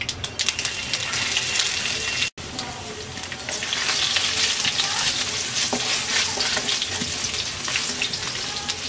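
Chopped garlic fries in hot oil with okra and mustard seeds, giving a loud, dense, continuous sizzle with stirring scrapes, broken by one abrupt cut near the start.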